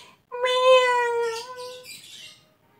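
A single long, drawn-out cat meow, close and clear, rising then fading, followed by a brief faint rustle.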